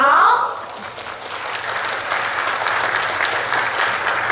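An audience at an official investment-launch event in Kaohsiung applauds, the clapping swelling loud at the start and then settling into a sustained, fairly even wash of hands, with a brief voice at the very beginning.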